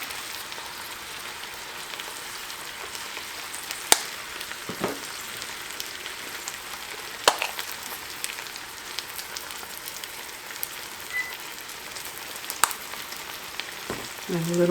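Spinach fries in a pan with onion and garlic, a soft, steady sizzle and crackle throughout with occasional sharper pops.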